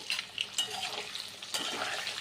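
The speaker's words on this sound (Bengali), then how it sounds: "আর দেখো, আমি প্রথমে আলুটা ভেজে নিচ্ছি" Potatoes frying in white oil in a pan as vegetables are fried in turn, a steady close sizzle with a few spatula stirs and clinks through it, no voice.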